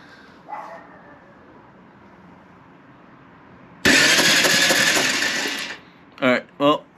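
A Honda Foreman ATV engine is cranked over with its spark plug removed for a spark check: about two seconds of loud, steady whirring cranking, then two short bursts.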